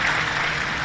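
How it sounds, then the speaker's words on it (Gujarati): Audience applause welcoming the tabla accompanist Girishbhai Joshi at a Gujarati dayro, a dense steady wash of clapping from a crowd, brief and fairly loud without voices over it. "તાળીઓથી આપણે એમને વધાવો"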